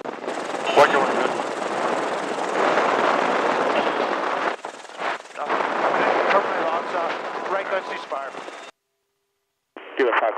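Machine-gun fire from the right-side GAU-21 or M134 minigun of a UH-1Y Huey helicopter during an aerial gun shoot, sustained bursts over heavy rotor and engine noise, with radio talk heard in between.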